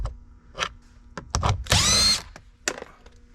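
Power screwdriver or drill backing a screw out of a cover panel on a Ford Transit van, a short whirring burst with a few close clicks and knocks around it, no talk.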